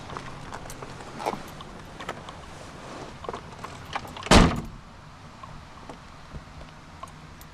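A single solid thump of a car door from a 1972 Mini 1000 stands out midway, close and sharp, amid quiet background handling noises and small clicks.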